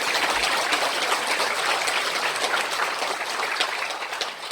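Crowd applause at a Korean unification rally marking the 79th Liberation Day anniversary: a continuous, dense roar of many hands clapping, fairly loud and steady, easing slightly toward the end.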